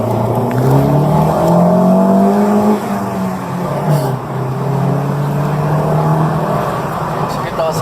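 A car engine revs and roars steadily up close during a street race in Brazil, its pitch rising and falling, with voices talking over it.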